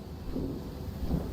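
Thunderstorm in World of Warcraft, a continuous low rumble of thunder with rain noise filling the background, steady and fairly close.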